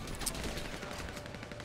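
Gunfire in GTA V crackles as a rapid scatter of sharp shots over a busy, noisy game mix, fairly faint and continuous through the short stretch.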